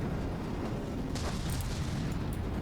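CRAM cannon shells exploding during a battleship fight in the game From the Depths, a dense, continuous low rumble of overlapping booms with a few sharper bursts, heard alone without talking.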